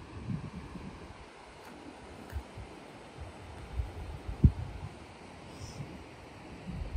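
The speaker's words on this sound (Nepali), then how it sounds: "ठुलो खोला हो यो त, लगभग त्रिशुली भन्दा अलिक सानै होला" Steady broadband rush of a large river, a little smaller than the Trishuli, flowing near Pemberton beyond Whistler, Canada, with wind buffeting the microphone and a few soft thumps, no voices.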